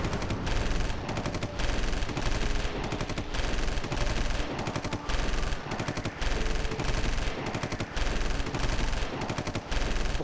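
Machine-gun fire rips through a dramatized horror scene of Indian Army soldiers against terrorists: loud, close bursts of rapid shots repeat in a steady rhythm, with brief gaps between them, for about ten seconds.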